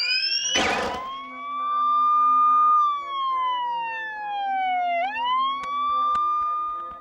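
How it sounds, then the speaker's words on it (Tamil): A loud, close siren in a 3D animated children's cartoon wails with a long sweeping pitch that falls and then rises again, after a brief noisy burst at the start. "இது ஒரு சைரன்."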